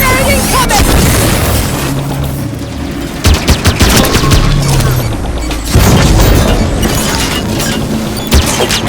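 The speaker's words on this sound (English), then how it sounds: "Grenade incoming!" A grenade goes off in the Halo 5 video game amid heavy combat, with loud booming blasts and rapid gunfire crackling densely throughout, close and intense.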